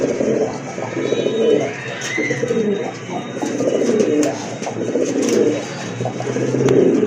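Pigeons cooing steadily in a loft where pigeons such as Rajgolla, Gorra, Giribaz and racing birds are kept, with soft overlapping coos and faint chirps throughout and no talk.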